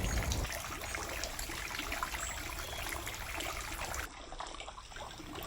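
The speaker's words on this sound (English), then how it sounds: "Gently babbling water can beneficially engage our perception and attention away from the intrusive traffic sounds" A small garden water feature babbling steadily, continuous trickling and splashing water at close range with no voices.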